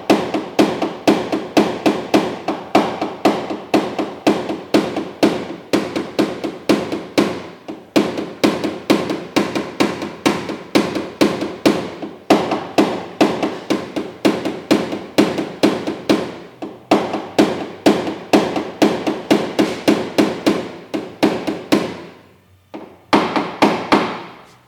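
A small body-repair hammer taps out a dent in a car panel, a rapid, steady stream of sharp metallic taps close by, continuing almost without pause and briefly stopping near the end.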